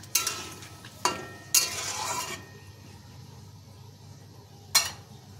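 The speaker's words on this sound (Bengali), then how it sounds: "সব কিছু মিশিয়ে নিচ্ছি।" A pan of mango chutney with pumpkin and syrup gets stirred in short strokes: a few distinct scraping, clinking sweeps of a spoon against the pan, spaced apart over a faint low sizzle, fairly quiet and close.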